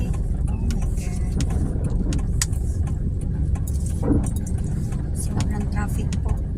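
Car stuck in heavy traffic during a strong downpour, with a steady low engine and road rumble throughout and occasional light clinks and taps near the microphone.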